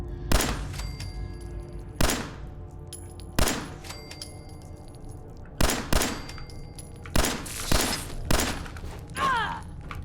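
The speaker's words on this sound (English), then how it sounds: "we do have a pistol now, which we're gonna have a bit of a play with" A pistol fires in the video game Fallout 4 in roughly eight sharp, loud shots at irregular intervals, each with a short ringing tail, over a quiet game ambience.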